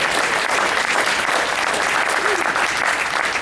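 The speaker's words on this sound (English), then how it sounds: "give this great team a round of applause" A room full of people at a property meeting for a mall redevelopment applauds a team, a dense, steady wash of clapping that holds throughout at full loudness.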